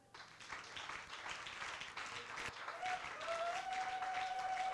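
Church congregation applauding and cheering for Jesus, a dense wash of clapping that builds and holds steadily, with a sustained tone rising near the end.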